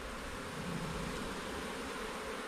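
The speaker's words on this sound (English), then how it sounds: "we got a lot of bees in here" Honey bees buzzing in a nuc hive box, a faint, steady, dense hum of many insects continuing without a break.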